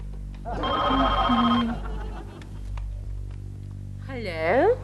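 A telephone rings during a call in a Hindi family comedy, a bright repeating electronic ring tone heard in bursts, with a voice speaking nearby and a warbling sweep near the end.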